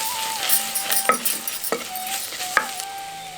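Small onions, garlic, curry leaves and chillies sauté in oil for sambar, with a faint sizzle under several clear metallic clinks of a spoon stirring against the pan and a steady tonal hum.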